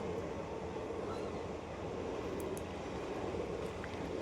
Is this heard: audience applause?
no